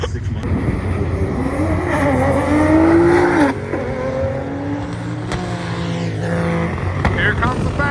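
Nissan GT-R drag car making around 2,200 horsepower on a fast pass, its engine note rising and sweeping past, loud and close, with people talking over it.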